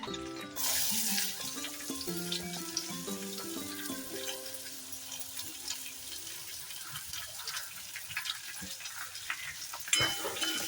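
Onion and garlic frying in a pan give a steady, moderate sizzle that runs throughout, partly masked by background music with a louder clatter near the end.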